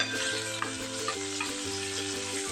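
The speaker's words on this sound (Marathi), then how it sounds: "परतून घेऊया पनीर" Paneer sautéing in hot oil, a dense continuous sizzle running close throughout, with a steady low hum underneath and no talking.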